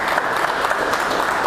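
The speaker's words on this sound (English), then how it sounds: "So clap it up for this brother" An audience at a father-and-son workshop gives a speaker a dense, steady round of applause. Many hands clap together, loud and continuous, with no talking over it.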